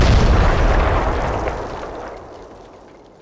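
A bomb explosion in the video game Team Fortress 2 hits as a loud, close boom that rolls into a long rumble and fades steadily over about three seconds, with no voices over it.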